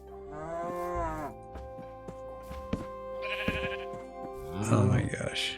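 Minecraft cows moo loudly and close, several drawn-out lowing calls with a harmonic tone, one near the start and more toward the end, with the player talking over them.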